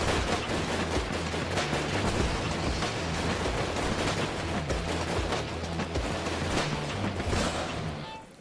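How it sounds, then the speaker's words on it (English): Guns test-fire at a Battle Jacket, producing sustained rapid bursts of loud, overlapping gunshots that crack in dense volleys for several seconds before tapering off at the end. "Let's finish big. Gentlemen, commence fire, please."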